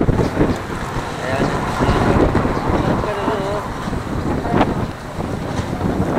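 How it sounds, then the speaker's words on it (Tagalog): Strong wind buffets the microphone in a loud, continuous rumbling rush outdoors, with people talking throughout underneath it. "Lahat ng hangin ha. May bagyo ba?"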